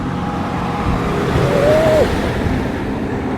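A tipper truck and other traffic pass along a road, heard as a continuous loud rumbling roadway roar with a brief rising engine whine in the middle.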